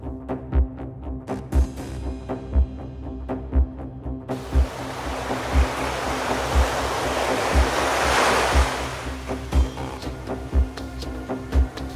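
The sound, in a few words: water rushing over rocks, toy train video effect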